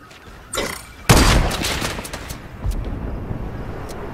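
Gunfire in the Fortnite video game: a sharp, loud shot blast, then a dense rattle of rapid shots and a second burst, close and continuous over about four seconds with no talking.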